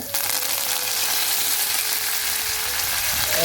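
Fenugreek seeds, cinnamon pieces and curry leaves fry in hot oil for a Sinhala-style ambarella curry, giving a steady, close, continuous sizzle with no talking.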